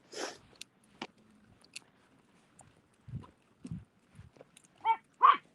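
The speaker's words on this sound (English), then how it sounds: "Hush, little baby, don't you bark." A pet dog named in a home setting lets out several short, sharp barks near the end, close and loud, after a few scattered quieter yips and mouth sounds earlier on.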